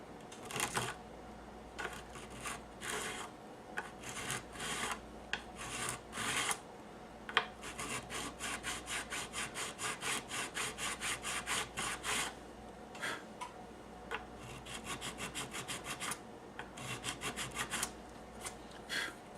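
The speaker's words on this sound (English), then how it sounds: "Nut slot files, and we're just going to clean up that area a little bit." Metal files, including nut slot files, rasp across the nut area of a Les Paul-style guitar in quick rhythmic bursts of close, scratchy strokes, separated by short pauses.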